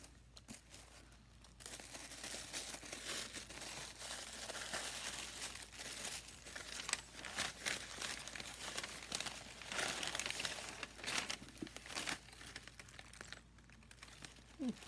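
Paper crinkling and rustling as a handmade shaker card from happy mail is unwrapped, close and continuous with irregular crackles and small tearing-like bursts, no talking.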